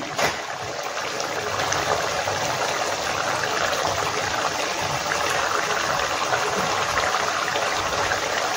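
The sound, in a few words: pouring mustard oil into a dish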